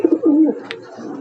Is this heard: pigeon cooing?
yes